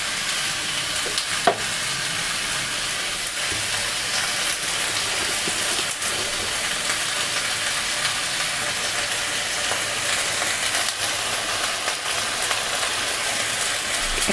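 Mixed vegetables of cauliflower, beans and tomato stir-fry in a pan, giving a steady, dense sizzle with scraping stirring strokes throughout, close and fairly loud with no talking.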